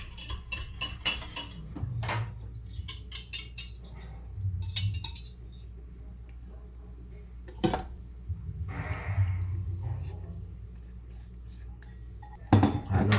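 Cake batter of combined wet and dry ingredients being mixed in a bowl for a chocolate moist cake, with utensil clinks and scrapes against the bowl in irregular bursts, close and moderately loud.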